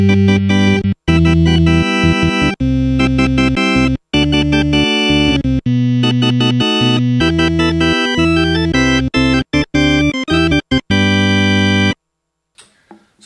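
Hammond XK5 organ playing Farfisa-style drawbar sounds with several drawbars pulled out, bright buzzy sustained chords in short choppy stabs, loud and alone, trailing off into near silence.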